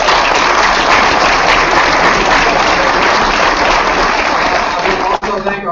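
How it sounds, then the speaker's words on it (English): Dense, sustained audience applause fills a candidates forum hall at a chamber of commerce event, loud and continuous before easing off near the end. "Join me in a round of applause for all."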